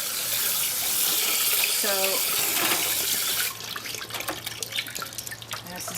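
Tap water runs steadily into a sink while whole dried corn is rinsed and rubbed by hand for a second wash, a continuous splashing hiss that thins out midway with brief drips, and a voice speaks briefly.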